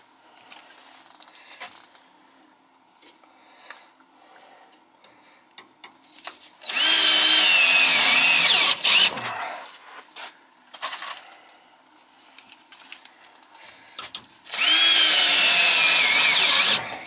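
A power drill whirs loudly in two long bursts, driving screws during a gas furnace and AC installation, with quieter handling noises and shuffling between the runs.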